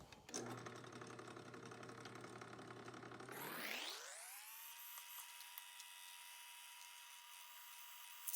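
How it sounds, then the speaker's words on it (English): An electric drill boring holes in metal pieces for sawmill blade guides on a worktable, a close, steady high whine that then winds down to a higher, thinner spinning tone and holds there. "Okay, drilling holes."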